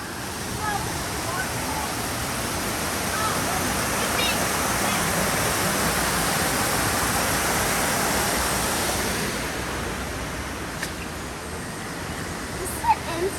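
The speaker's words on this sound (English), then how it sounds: "And the rain's picking up." Steady rain pours down over a Disney's Animal Kingdom ride queue, a dense continuous hiss that swells slightly midway, with faint indistinct voices in the background.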